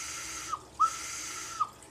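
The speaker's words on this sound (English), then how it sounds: "It kind of sounds just like a toy whistle" Short high-pitched ocarina notes, a brief chirp then a longer sustained tone and a final short note, over a hissy background.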